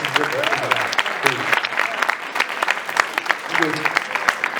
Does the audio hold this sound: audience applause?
yes